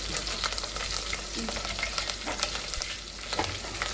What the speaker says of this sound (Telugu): ఆయిల్ వేసుకుంటాక మిరగాయలు కరివేపాకు జీలకర్ర పచ్చిమిరకాయలు వేసి చక్కగా వేసుకుందాం